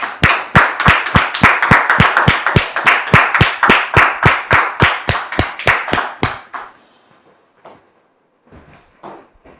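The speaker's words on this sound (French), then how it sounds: "sous vos applaudissements, s'il vous plaît" Rhythmic unison clapping from a studio audience on a French television talk show, loud and evenly spaced for about six seconds, then stopping abruptly, followed by faint scattered sounds and brief low talk.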